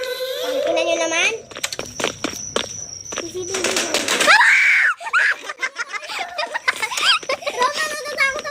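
A child screams again and again while playing a chaotic Roblox horror game, shrill and loud, mixed with giggling and excited kid voices talking throughout.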